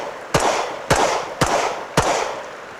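Four evenly spaced pistol shots, loud and close, ring out about half a second apart while the shooter moves, each a sharp crack with a brief ringing tail.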